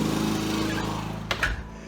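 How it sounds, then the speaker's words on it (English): A lawnmower runs outside as a steady, muffled engine drone, fairly even throughout, with a brief knock or clatter near the end. "let me shut this door so you don't hear that lawnmower so loud"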